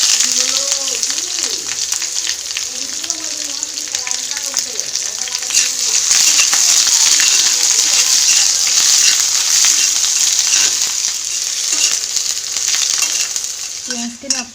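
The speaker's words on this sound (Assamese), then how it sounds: "তেল গৰম হৈ গ'ল, ধুনীয়াকৈ ইয়াত দিলোঁ তেজপাত আৰু শুকান জলকীয়া। এতিয়া ইয়াত দি দিম পিঁয়াজ।" Onions fry in hot oil with bay leaf and dried chilli, giving a loud, steady sizzle and hiss close by. The occasional stir of a spatula is heard, and a voice speaks faintly underneath.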